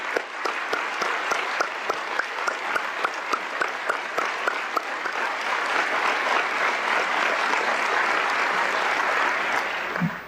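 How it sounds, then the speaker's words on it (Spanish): An audience applauds teachers at a formal education gathering, dense sustained clapping that starts with distinct rhythmic claps and swells into a full, even ovation before cutting off, with no speech over it. "Pido un aplauso para todos los que se hicieron maestros"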